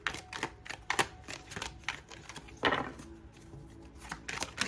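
A large, oversized deck of oracle cards is shuffled by hand in quick, papery riffles and flutters, close up and fairly quiet, with no voices.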